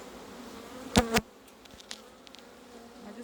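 Bees swarm around an opened beehive during a spring hive check, their steady low buzz running throughout, broken near the start by a brief louder burst and a single spoken word.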